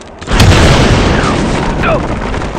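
An explosive charge detonates in the video game Star Wars Republic Commando with a loud, deep boom that swells into a sustained roaring rumble and slowly settles, with faint voices heard underneath.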